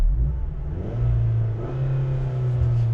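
A 2020 Dodge Journey Crossroad with a 2.4-liter four-cylinder engine starts up: a brief crank, then the engine catches and settles into a steady, close idle hum with a slight rev.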